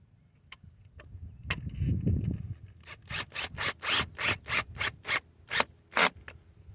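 A screw driven and tightened into a poly fence-line hay feeder, a soft rubbing scrape followed by a rapid series of about a dozen rhythmic ratcheting strokes, close and clear with no talking.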